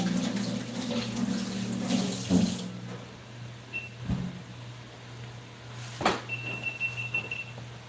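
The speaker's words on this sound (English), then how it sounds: "Wash up my hands." Tap water runs steadily into a kitchen sink while hands are washed during home cooking, with a few splashy surges and faint clinks over a constant rush and no talking.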